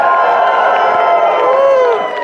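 Wild cheering and whooping from a conference audience at the close of a keynote speech, a loud, dense crowd roar that holds steady for a couple of seconds before easing slightly.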